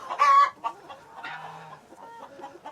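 Colorful chickens on fresh grass pasture cluck and squawk nearby in short, scattered bursts, one louder call at the start followed by softer murmuring clucks.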